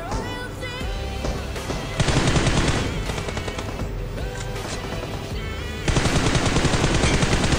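M4 rifle gunfire in BGMI, the mobile battle royale game: rapid bursts of automatic fire crackle across the clip, growing louder and denser in two stretches amid game sound.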